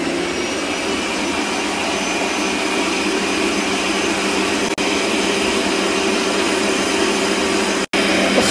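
An electric mixer whips knafeh cheesecake batter at high speed, a loud steady whirring drone held throughout.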